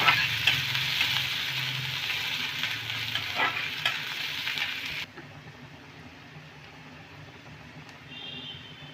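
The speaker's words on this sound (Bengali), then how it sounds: "পেঁয়াজটা নিলাম কাঁচা লঙ্কা একটু দিয়েছি হাফ সবগুলোকে একটু সামান্য হালকা লাল করে নেব" Chopped onions and green chillies fry in a pan for a bread pakora breakfast recipe, giving a steady close sizzle with occasional scraping stirs for about five seconds before the frying drops to a quieter, softer hiss.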